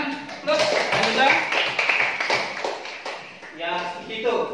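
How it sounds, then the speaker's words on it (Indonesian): A fourth-grade class claps for a classmate in an elementary school lesson, a burst of scattered taps and hand claps that fades, with a teacher speaking over and after it. "beri tepuk tangan"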